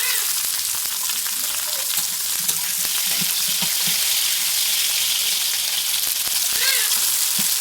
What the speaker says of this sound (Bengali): পেঁয়াজটা একটু ভাজা হয়ে যাবে, আর এর মধ্যে দিয়ে দেবো টমেটো কুচি